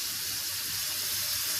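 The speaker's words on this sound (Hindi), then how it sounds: "बीफ इसमें चला गया और साथ में इसमें डालूंगी 1 टेबलस्पून लहसुन और 1 टेबलस्पून अदरक" Beef with a tablespoon each of garlic and ginger fries in a pot for masala beef pulao, a steady loud hiss of sizzling oil without pause or voices.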